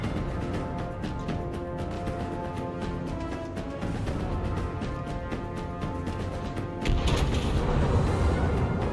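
A battleship's main guns fire a salvo in World of Warships, heavy booms over busy game noise, with a louder burst near the end.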